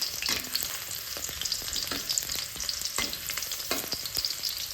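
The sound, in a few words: spices sautéing in hot oil in a pan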